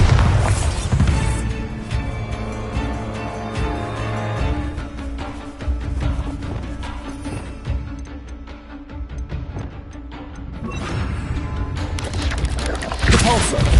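Repeated booming blasts and thuds of a Bombarda spell exploding in Hogwarts Legacy, several loud impacts over a busy mix of game effects and music.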